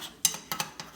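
Metal spatulas scraping and clinking on a hot hibachi griddle while eggs are scrambled, a few sharp clatters spaced across a second, fairly quiet and alone.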